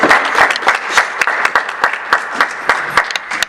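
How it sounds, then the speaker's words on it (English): Audience applause at a panel event, a steady burst of clapping from a modest crowd with sharp individual claps standing out, lasting a few seconds before tapering off. "Let's give a round of applause to Mr. Michael."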